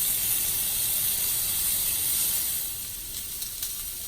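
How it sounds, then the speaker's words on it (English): A steak sears in a very hot pan indoors, giving a loud, steady, close sizzle that eases slightly toward the end. "when we turn it over, we'll take the meat and put it into different new hot parts of the pan"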